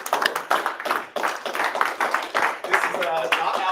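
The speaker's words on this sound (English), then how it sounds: "Let's give him a round of applause as he makes his way up." Audience applause at a monthly lunch-and-learn gathering, a moderate crowd clapping steadily in a room with fluctuating intensity, close and fairly loud throughout, voices mingling with the claps.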